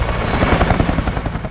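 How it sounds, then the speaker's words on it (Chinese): A military gunship helicopter from the Vietnam War thumps loudly and close, its rapid rotor chop pulsing steadily in a brief burst. "武装直升机在越南战争中发挥了极为重要的作用。"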